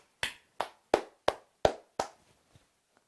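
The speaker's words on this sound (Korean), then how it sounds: "박수." Six crisp hand claps ring out at an even, brisk pace in a quiet room, followed by a couple of faint taps; no voices.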